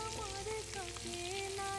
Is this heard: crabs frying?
yes